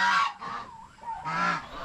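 Loud, harsh gobbling calls from turkeys, two strong bursts with a rougher cry between, close by and with no talk.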